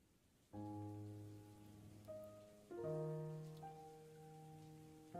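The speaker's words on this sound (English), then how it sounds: "it's literally raining in this room" Steady indoor rain patters as a soft, constant hiss inside a room in the visual novel game Doki Doki Blue Skies. It sits beneath sustained, gentle background music chords, with no voices.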